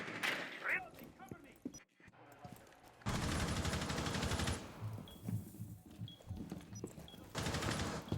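Automatic gunfire bursts in an esports shooter match between Purple Turtle and Polemistis, loud rapid volleys in two long stretches with shorter shots between, under excited commentary.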